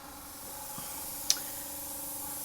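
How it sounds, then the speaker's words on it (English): An airbrush sprays thinner through its open nozzle to clean it out while priming a model tank kit; a faint, steady airy hiss runs throughout, broken by one brief sharp click midway. "And now we just start spraying again."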